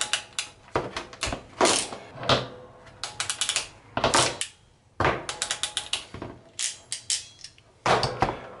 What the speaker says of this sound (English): and then we're going to crimp one of the terminals on, like so.